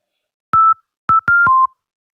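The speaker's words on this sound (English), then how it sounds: "we can hear pretty basic sine wave" Four short electronic beeps of a pure steady tone, the last slightly lower in pitch, in an uneven rhythm with silence between them.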